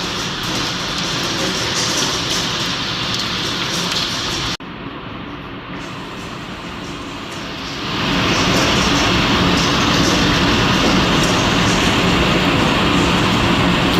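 Big hail chunks pounding down in a storm, a dense steady roar of impacts that swells louder partway through, close and continuous with no talking.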